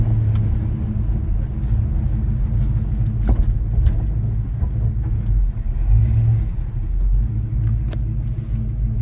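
A 1966 Chevy C10 truck without power steering drives along, its engine a steady low rumble close by, with faint interior rattles and brief clicks over the continuous drone.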